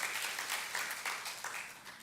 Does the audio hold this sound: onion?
no